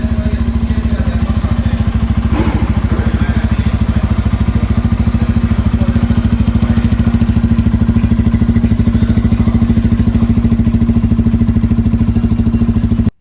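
A 2024 Bajaj Pulsar N250 motorcycle with a twin-outlet aluminium exhaust idles close by, a loud, steady, rapid thrumming pulse that holds even throughout before cutting off abruptly at the end.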